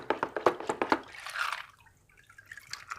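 Water splashes in a quick series of rhythmic sloshes as an aquarium filter sponge is shaken underwater, followed by a softer swishing and gentle trickling.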